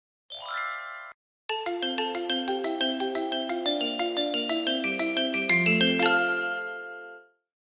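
A xylophone plays a bright melody of struck bar notes in a quick even rhythm, ringing clearly and alone after a short opening chime.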